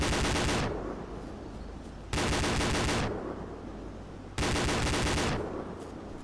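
Three loud bursts of rapid gunfire in a military video game, each sharp and close, spaced about two seconds apart and decaying between volleys.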